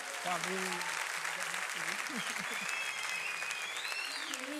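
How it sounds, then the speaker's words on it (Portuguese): Steady applause from a church congregation during an evening service fills the whole stretch at moderate level, with a few voices calling out faintly beneath the clapping. "Dá uma salva de palmas aí"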